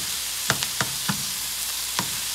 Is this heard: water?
no